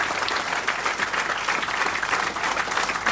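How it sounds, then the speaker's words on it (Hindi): An audience at a business mentoring and public speaking event breaks into loud, sustained applause, a dense and even wash of many hands clapping together for about three seconds with no speech. "मेरा भी फर्ज बनता है कि एक जोरदार तालियां इनकी मेहनत पर आपको बजाना।"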